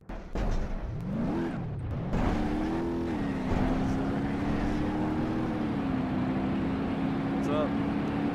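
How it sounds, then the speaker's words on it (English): A car engine in the BeamNG.drive driving simulator drones steadily, pitch rising and falling slightly as it revs, loud and continuous throughout. "Engine."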